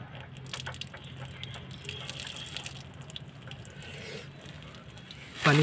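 Water drains out of a car radiator during a flush, a steady low trickling wash that runs alone throughout at moderate level, ending in a brief louder burst.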